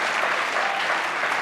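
Studio audience applauding on a late-night talk show, a steady dense wash of clapping, loud and close, holding evenly through the whole moment with no talk over it.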